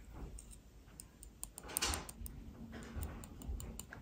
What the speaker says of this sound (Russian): Будем стучать ножницами.